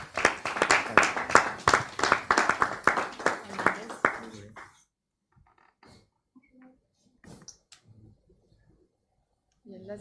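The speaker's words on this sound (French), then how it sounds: "On peut les applaudir déjà" Applause from the audience at a startup weekend pitch night, dense clapping filling the first four and a half seconds and then stopping abruptly, leaving near silence with a few faint clicks and murmurs.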